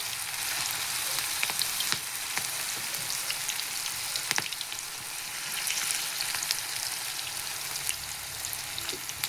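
Okra (bhindi) frying in hot oil, a steady close hiss of sizzling with scattered small crackles and pops throughout, and no one talking.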